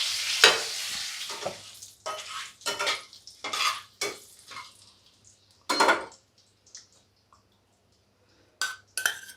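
Bay leaves and dried red chillies frying in oil for a vegetarian pea ghugni, with a series of sharp bursts of sizzle and spoon scraping against the pan, separated by quiet gaps.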